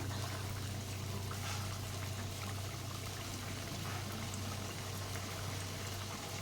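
Steady bubbling hiss of thin nimki dough snacks deep-frying in hot oil in a wok, continuous and even with a low hum underneath and no talk.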